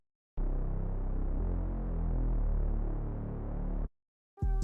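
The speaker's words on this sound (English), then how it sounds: "decrease the cutoff knob to cut off all those higher frequencies so you could really hear the sub in the Reese" A Reese bass synth in FL Studio with its filter cutoff lowered plays a single sustained, dark, throbbing low tone for about three and a half seconds. It cuts off cleanly, and a brighter tonal blip follows at the very end.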